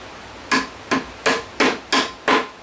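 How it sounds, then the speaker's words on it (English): Six sharp, evenly spaced hammer taps drive a Festool rail connector into a wooden mortise, close and clear, with no voices. "I'm going to hammer that in till it's flush or a tad below the surface."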